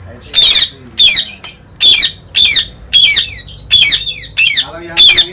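An Indian ringneck parakeet gives loud, harsh squawking calls close by, about nine in a steady rhythm of roughly one per half second, each a bright rasping burst with brief pauses between.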